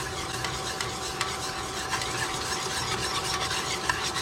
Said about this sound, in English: We're not trying to burn anything, so make sure you keep on stirring.